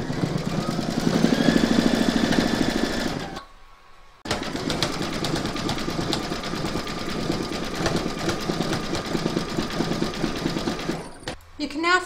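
An embroidery sewing machine doing satin stitching runs with a fast, steady mechanical whirr and rapid needle clatter, pausing briefly before resuming at an even pace, then stopping near the end; a voice speaks early on.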